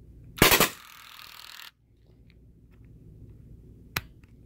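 A Drozd foam blaster with a high-voltage mod fires a three-round burst, a loud rapid rattling shot followed by a motor whir that cuts off, then a single sharp click later.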